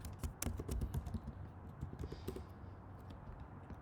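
Faint, rapid keystrokes clatter on a computer keyboard in quick irregular bursts, then slow to sparser taps near the end.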